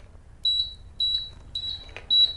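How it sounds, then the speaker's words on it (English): Portable mobility scooter sounding four short, evenly spaced high electronic beeps to signal neutral, clear and close in a quiet room. "that beeping sound, that means that we're in neutral"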